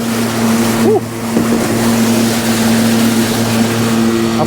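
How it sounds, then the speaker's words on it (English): A pump fills a tank with water for dissolving urea fertiliser on a farm. A steady engine-like drone runs throughout under a continuous rush of flowing, bubbling water. "Got it pumping now, look at that. Water flowing. See it bubbling in the tank."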